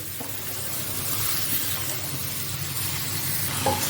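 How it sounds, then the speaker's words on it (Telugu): Onions and bottle gourd pieces frying in a pan, giving a steady, even sizzle and hiss at moderate volume with a couple of faint clinks, and no talking. "ఆనియన్స్ ఈ విధంగా ఫ్రై అయిన తర్వాత అనపకాయ పీసెస్ ఇందులో యాడ్ చేసుకోండి"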